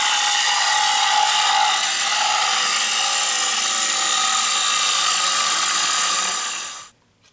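A wood lathe cuts into a wooden bowl being turned, a loud, steady rushing whir with rough scraping texture that holds evenly for about seven seconds, then stops abruptly.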